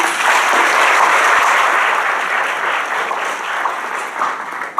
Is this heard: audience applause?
yes